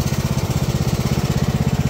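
The engine of a Bolens ride-on lawn mower idles smoothly and steadily, a close, loud, low chugging pulse with an even, regular rhythm throughout.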